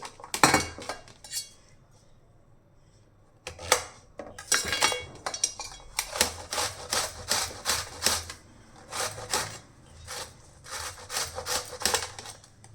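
Ash gourd being grated by hand for Kashi halwa, a rapid run of scraping strokes in bursts, close and fairly loud, with no talking.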